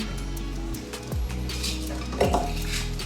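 A knife chops through frozen strawberries on a board, with a couple of sharp knocks and clinks of kitchenware amid steady kitchen noise.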